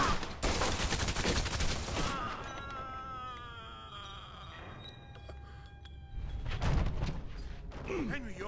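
A burst of rapid gunfire from Mafia II crackles at the start, then fades into shouting voices, scattered clanks and game effects, with another flurry of shots near the end.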